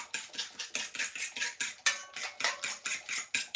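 A fork beats and stirs plantain porridge in a pot, giving quick steady metallic scraping clinks in an even rhythm of about four strokes a second, close and quiet, with no talking.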